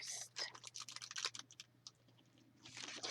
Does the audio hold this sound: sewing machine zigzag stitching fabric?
no